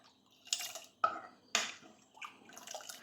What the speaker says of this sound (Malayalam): ഒഴിച്ചു കൊടുത്തൊന്ന് ഇളക്കി കൊടുക്കാം.